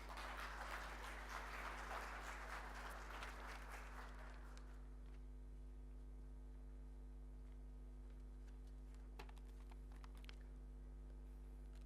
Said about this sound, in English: So please welcome him with a big applause.